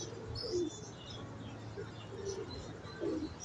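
Pigeons cooing softly in a quiet setting, a few low, rounded coos repeating at intervals with faint chirps in the background.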